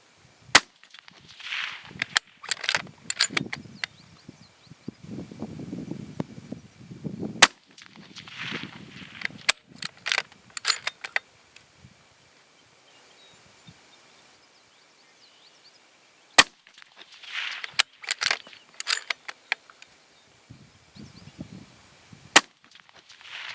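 Remington 700 .223 rifle firing Sierra Match King bullets, a series of sharp, well-spaced shots with ringing tails and quiet gaps between, loud and close outdoors.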